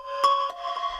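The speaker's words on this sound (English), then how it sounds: "we're adding these plucks" Serum synth plucks in an electronic track give a short, bright melodic figure of a few quick tonal notes, clear and alone.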